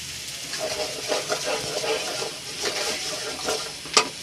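Chicken filling for cheese paratha frying and being stirred in a pan, a close dense sizzle with rhythmic spoon scrapes and a sharp clink near the end.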